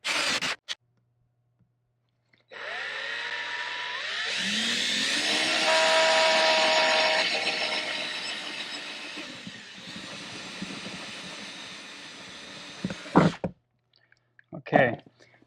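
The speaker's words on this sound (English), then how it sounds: "So now I'm going to go, no drill stop, and drill my holes." Power drill boring a row of holes through a car door skin during automotive sound treatment work, a loud sustained whine rising and settling over several seconds with brief quieter gaps and a few short knocks near the end.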